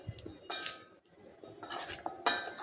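A spoon scrapes and clinks against a bowl while lemon pickle pieces are mixed with salt and turmeric, a few close, quiet bursts of stirring separated by brief pauses, no voices.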